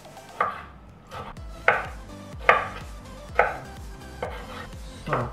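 A knife chops tomatoes into small slices on a cutting board, giving six sharp, evenly spaced thuds at a steady slow rhythm, up close and with no talking.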